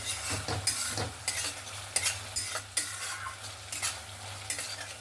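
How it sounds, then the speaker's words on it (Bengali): Spice paste for tangra fish curry sautéing in a pan, soft sizzle broken by a rhythmic series of spatula scrapes and stirring strokes, close and clear with no talk. "মশলাটা যত সুন্দরভাবে কষানো হবে রান্নাটা কিন্তু ততটাই টেস্টি হবে"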